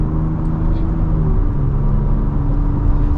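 A 2024 Ford Ranger Raptor truck on the road, a steady low engine and road drone with a constant whir inside the cab, fairly loud and even throughout with no voices.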